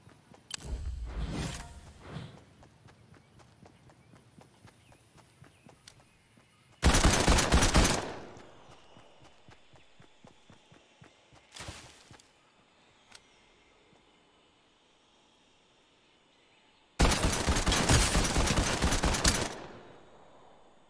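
Submachine gun fire in the Fortnite video game comes in three loud, dense bursts of rapid shots, with quieter footsteps and movement noise between them.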